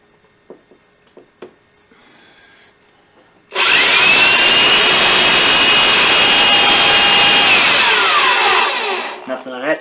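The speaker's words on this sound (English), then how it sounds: "And there's all of our holes drilled." A power drill bores holes in a booster build, starting with a few scattered knocks and light clicks before a loud, sustained high whine runs for several seconds and then winds down.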